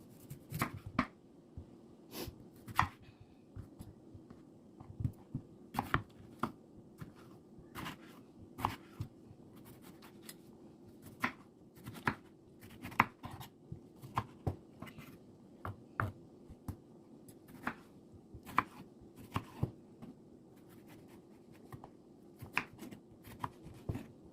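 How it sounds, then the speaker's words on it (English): Repeated sharp knife chops through a tomato on a cutting board, irregular and fairly close, with short pauses between bursts of cutting. "we're going to cut up a tomato"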